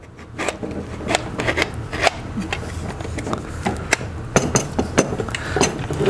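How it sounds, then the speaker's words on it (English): Sharp clicks, knocks and plastic-metal rattles from a Hitachi router as its latch is loosened and the motor is pulled from its base, a series of close, irregular handling sounds. "loosen it from the latch on the thing, and the router part pulls right out"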